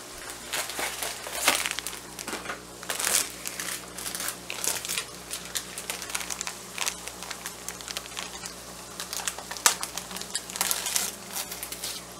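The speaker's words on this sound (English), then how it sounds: "Just tear open the seasoning, plop that in." Seasoning packet being torn open and handled while cooking rice for homemade tacos, a run of crisp crinkling and rustling bursts with small clicks, close and fairly quiet, with no talking.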